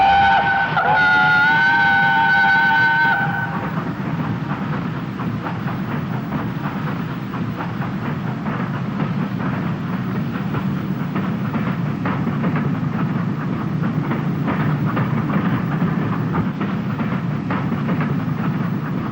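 British Railways Britannia Pacific steam locomotive 70013 Oliver Cromwell running northbound toward Carlisle, a loud, continuous rumble and roar of the train passing close by, with a short whistle blast near the start.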